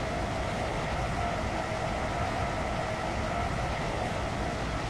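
Train running in the Roblox game Stepford County Railway, a steady continuous rumble of a moving carriage with even broadband rail noise throughout, fairly loud and with no clear individual clacks.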